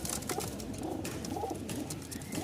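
Pigeons coo softly from clay breeding pots, low repeated throaty calls under a constant background hiss, with no speech.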